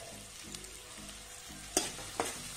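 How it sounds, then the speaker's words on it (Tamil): Finely chopped onions fry over high flame for Indian-style macaroni, a soft steady sizzle broken by a few sharp scrapes and knocks of a spoon stirring them around the pan, with no talking. "நல்லா வெங்காயம் வதங்கணும்."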